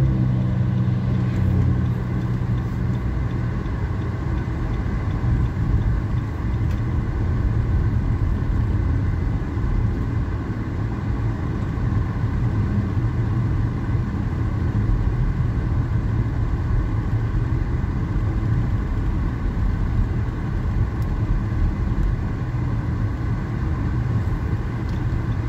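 A car cruising at over 40 mph on a long stretch near the Goodyear plant, giving a steady, even road-and-engine rumble that holds unchanged throughout, with no talk.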